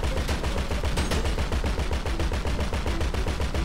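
Sustained automatic gunfire in GTA V, a steady rapid rhythm of loud, closely spaced shots continuing without pause.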